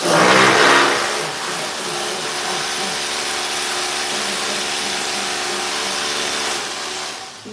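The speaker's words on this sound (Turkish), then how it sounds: "Matkap." A power tool whirs loudly, spinning up with a brief surge at the start, then holding a steady high-pitched whine before winding down at the end.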